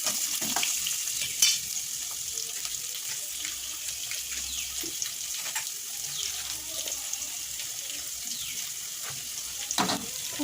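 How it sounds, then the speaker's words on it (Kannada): Onions, green chilies, mustard seeds, cumin and chana dal fry in a pan, giving a steady, close sizzle with scattered stirring scrapes and a few sharper pops and clinks; no one speaks. "ಸಾಸಿವೆ, ಜೀರಿಗೆ, ಕಡಲೆಬೇಳೆ ಹಾಕ್ಬಿಟ್ಟು ಆಮೇಲೆ ಈರುಳ್ಳಿ, ಹಸಿಮೆಣಸಿನ್ಕಾಯಿ ಹಾಕ್ಕೊಂಡು ಚೆನ್ನಾಗಿ ಫ್ರೈ ಮಾಡ್ತಾಯಿದ್ದೀನಿ."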